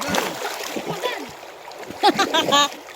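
A splash as someone jumps into a river on a hot day, people calling out in excited voices, and a brief burst of water sounds near the end.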